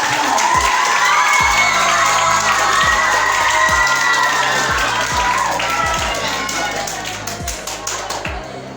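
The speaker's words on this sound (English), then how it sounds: "Please welcome him with a huge applause" A school program crowd bursts into sustained applause and cheering to welcome a speaker, with loud continuous clapping, shouts and rhythmic claps, tapering slightly near the end.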